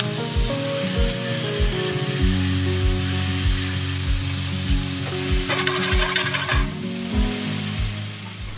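Onions and vegetables frying in avocado oil in a pan, a loud, continuous sizzle with a low, regular rhythmic thumping underneath and a brief burst of brighter spattering midway.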